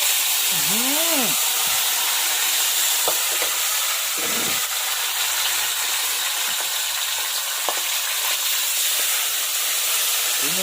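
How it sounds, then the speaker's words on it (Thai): Fish frying in hot oil, a steady loud sizzle and hiss running throughout, with a few faint clicks and brief whistling tones over it. "เราทำการทอดปลานะครับ"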